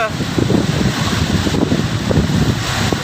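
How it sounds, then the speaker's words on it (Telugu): Strong, gusty wind roars steadily during rain in Hyderabad, a loud broadband rush with rising and falling surges, close to the microphone and buffeting it. "చాలా తీవ్రమైన గాలులు, వేగవంతమైన గాలులు వీస్తున్నాయి బాగా హైదరాబాద్లో."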